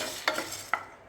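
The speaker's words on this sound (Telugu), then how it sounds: "సో కొంచెం హై ఫ్లేమ్లో పెట్టుకొని మనం దీన్ని ఫ్రై చేసుకోవాలి" Brinjal (vankaya) pieces frying on high flame in a pan, a steady close hiss of sizzling oil broken by three scraping stirs of a spatula.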